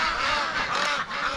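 Ducks quack loudly and close outdoors, a dense, overlapping burst of honking calls with no pause.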